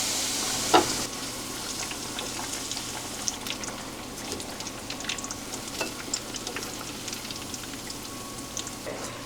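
Sweet potato slices in thin tempura batter frying in hot oil, a steady close crackling sizzle with a sharp burst as pieces go in, then continuous fine popping bubbles throughout, with no talking.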